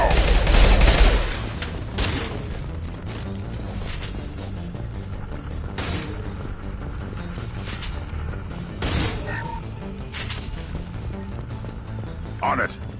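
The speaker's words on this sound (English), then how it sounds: "Firing a high-impact shot." High-impact gunshots ring out in the Mass Effect Legendary Edition video game: a heavy opening volley, then scattered sharp shots and booms over several seconds, with voices talking through the combat.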